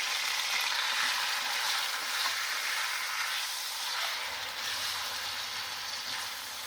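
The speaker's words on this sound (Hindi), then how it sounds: "इसको मैं तेज आंच पर 2 मिनट फ्राई करूँगी।" Mutton sizzles on high heat in a karahi, a steady close hiss and crackle of frying with faint stirring, no voices.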